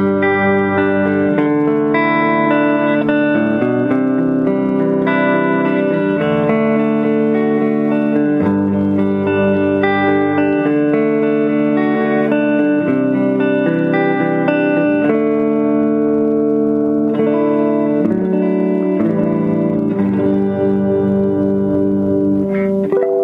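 A Telecaster electric guitar on its neck pickup, one a Harley Benton kit build and the other a partscaster with a CV neck, plays sustained chords and melodic lines continuously and loudly, with a slightly effected, reverberant tone and no talking.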